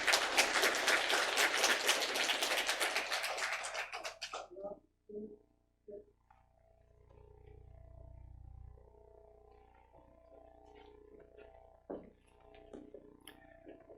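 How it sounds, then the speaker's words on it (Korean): A church congregation at a Korean Sunday service applauds in a dense burst of clapping lasting a few seconds, then cuts off into a quiet room with faint scattered sounds. "축하의 박수 부탁드리겠습니다"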